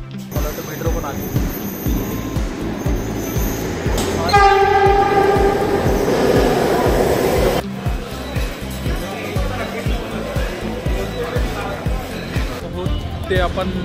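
Rhythmic clatter of a metro train rolling in near the Red Fort, Delhi, with a long horn blast in the middle and people talking over the rumble of wheels.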